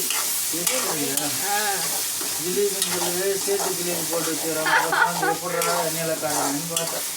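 Masala fish pieces frying in hot oil with curry leaves, a steady loud sizzle with occasional stirring, close up, under continuous talk.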